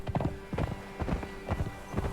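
Horse hooves clip-clop steadily in Conan Exiles as a rider drives the mount along, a brisk repeating gait of close, fairly loud thuds with a faint background hum.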